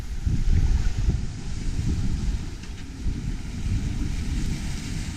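Atlantic ocean waves wash around a sailboat at sea, a continuous low rumbling surge mixed with wind noise, steady and fairly loud, with no voices.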